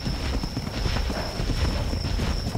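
Horse hooves clip-clop steadily across ground in the ARK: Survival Evolved Ragnarok game, a close, continuous rhythmic patter with a faint whinny mixed in, and no talking over it.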